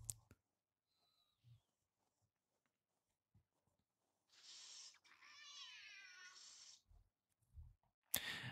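Cat in The Sims 2 meowing, a couple of short, soft meows amid quiet game clicks and sparse ambience.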